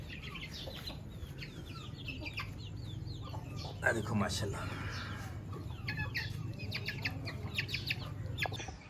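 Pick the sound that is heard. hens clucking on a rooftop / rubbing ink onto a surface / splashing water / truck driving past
hens clucking on a rooftop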